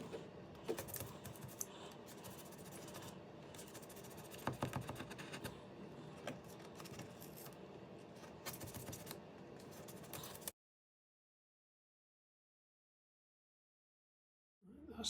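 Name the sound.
cutting out model railway part with a scalpel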